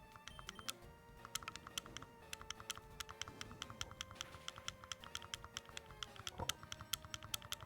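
Rapid, steady clicking of a game controller's A button being mashed during a Pokemon Fire Red session, faint and continuous in the background over a low hum.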